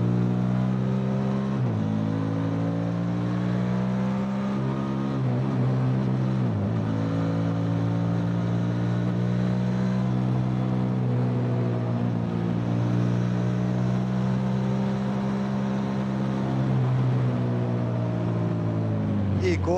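A Rieju Xplora 557 motorcycle being ridden through bends on 17-inch wheels, its engine a steady, close drone that rises and falls in pitch with the throttle for the whole stretch.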